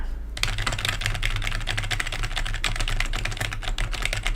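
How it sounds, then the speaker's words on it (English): Fast, continuous typing on a Corsair K55 membrane keyboard, dense overlapping key clatter at close range with an even rhythm and no talking. "Listen to that mesh membrane."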